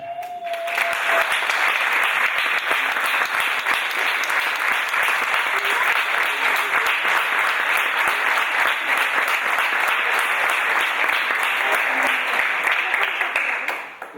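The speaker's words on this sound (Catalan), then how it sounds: "vos demano un fort aplaudiment" Sustained applause fills a town hall at a closing ceremony in Torrent, a dense, steady roar of many hands clapping for about fourteen seconds before tapering off at the end.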